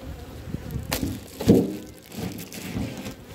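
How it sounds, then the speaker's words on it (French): Honey bees hum around a hive among chestnut trees, a faint steady buzz under rustling and handling noises, with a few louder bumps and scrapes close by. "Ou pour les abeilles."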